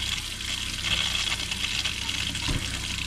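Hot water gushes steadily from a kitchen faucet at a small off-grid cabin in the woods, a continuous close hiss of running water that fills the sink and stays even throughout.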